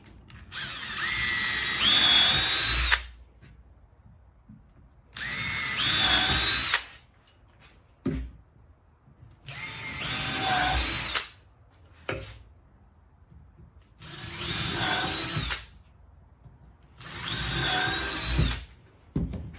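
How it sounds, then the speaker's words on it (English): A power drill whirs in five bursts of two to three seconds each, pre-drilling screw holes for shop cabinets, separated by brief pauses, loud and close, with no talking. "I'm just going to pre-drill some holes for the screws"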